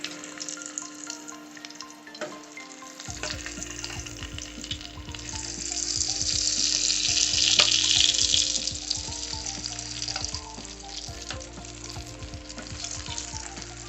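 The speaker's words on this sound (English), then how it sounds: "The oil is very hot now. So let's add the potato in." Potato pieces go into very hot oil in a roasting tin alongside slow-cooked lamb leg, bursting into a loud, continuous crackling sizzle that swells in the middle and settles, with occasional clinks of utensils.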